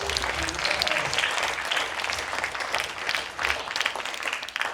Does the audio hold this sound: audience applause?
yes